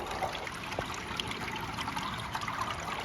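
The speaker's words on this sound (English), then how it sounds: "You can see the water flowing down through there" Water trickles steadily down through the wet pads at the back of a Hessaire portable evaporative cooler, a soft, continuous dribbling wash heard close up with no talk over it.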